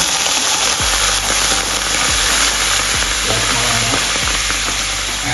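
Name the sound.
white wine added to roasted vegetables, sizzling in pan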